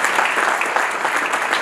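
Brief burst of steady applause from a gala audience for a speaker, dense and close with no break.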